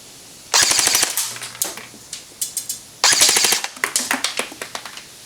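G&G Combat Machine RK47 airsoft electric gun firing full auto on an 8.4 large battery, two loud close bursts of rapid snapping shots at about twelve per second, each followed by scattered lighter clicks.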